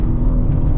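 A 2025 BMW M4 CS engine at full power on a winding road, a loud, dense, low rumbling roar heard briefly from inside the car.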